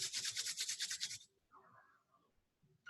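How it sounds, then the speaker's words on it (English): Hands rub briskly over legs and palms in a quick, even rhythm of close, breathy friction strokes for about a second, then stop, leaving near silence with a faint soft sound. "Rub legs, rub palms."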